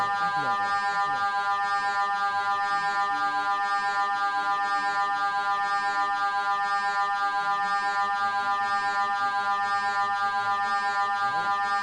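Electronic beeping tones repeat in a steady, even pulse over a continuous humming drone, loud and close, with no voices throughout.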